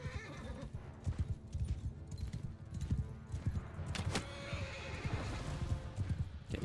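Horses gallop into battle in Mount and Blade II: Bannerlord, with dense clip-clop hoofbeats and occasional whinnies over a busy clash of fighting, loud and continuous.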